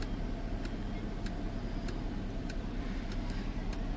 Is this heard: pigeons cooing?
no